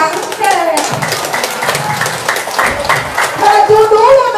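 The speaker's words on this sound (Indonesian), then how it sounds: "Maka tepuk tangan coba kumaha teh." Audience at a women's and family session of a West Javan political party event, clapping continuously and loudly in a crowded hall, mixed with voices and chatter.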